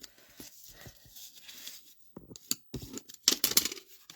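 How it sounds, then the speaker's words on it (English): Paper card being folded, scored and burnished while making a Christmas tree treat box: soft rubbing and scraping strokes, then sharper crisp creasing bursts near the end, close and fairly quiet with no talk. "So then we're just going to fold and score, fold and burnish"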